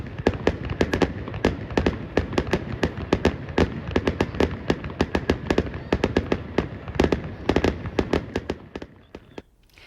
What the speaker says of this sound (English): Fireworks were viewed from the grandstands.